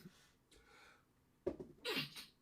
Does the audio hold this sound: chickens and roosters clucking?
no